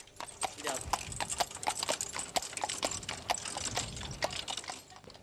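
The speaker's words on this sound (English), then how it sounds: "Old friends farewell." Horse hooves clip-clop steadily as a horse pulls a co-op baker's door-to-door delivery cart, the regular hoofbeats close and clear over faint background noise.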